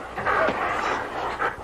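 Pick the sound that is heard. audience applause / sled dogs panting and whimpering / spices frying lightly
sled dogs panting and whimpering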